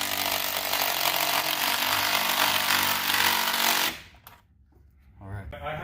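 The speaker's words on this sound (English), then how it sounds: "Find the hole, drill it in." A power drill whirs loudly and continuously for several seconds while working on the engine of a Hemi Ram 1500 pickup, then cuts off abruptly, leaving quieter background noise.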